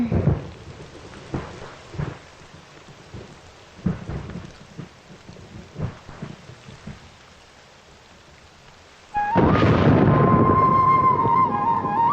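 Steady rain falls with occasional low thunder rumbles, then a sudden loud, sustained tone swells in near the end.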